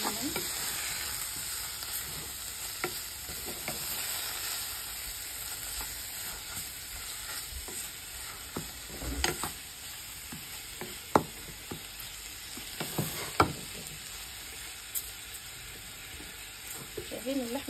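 Meat and onions stirred in a frying pan for Sudanese taqliya stew: a steady sizzling hiss broken by occasional scraping and clattering stirs, close, with soft talk in the background.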